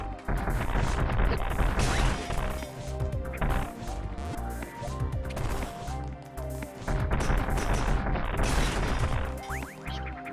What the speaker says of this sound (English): Just waste a bunch of missiles on these dudes